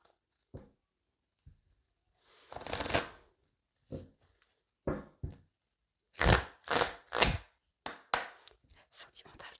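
A tarot card deck being cut and shuffled up close, heard as several crisp flurries of riffling cards separated by short quiet pauses, with quicker shuffles clustered toward the end.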